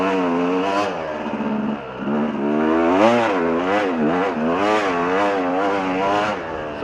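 A motorcycle riding through sand revs up and down repeatedly, its engine pitch sweeping in surges as it accelerates, loud and close with no talk over it.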